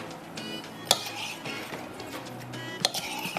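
Fish pieces are tossed with masala and lemon juice in a bowl, with soft stirring scrapes and a couple of sharp utensil clinks against the dish, heard close and without speech.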